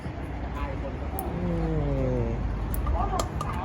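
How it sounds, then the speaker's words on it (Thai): A car brakes and sounds its horn close by on a roadway, a drawn-out tonal blare that rises and falls over a steady traffic rumble, with people talking throughout. "เสียงรถเบรก"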